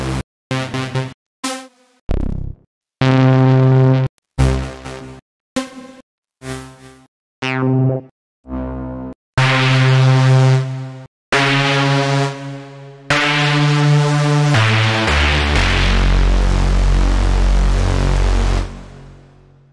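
A techno lead preset on the Serum software synthesizer plays a series of loud, buzzy, harmonically rich stabs and held notes in an uneven rhythm, ending in a long low sustained tone.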